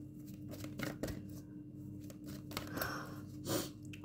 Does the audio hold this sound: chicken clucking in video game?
no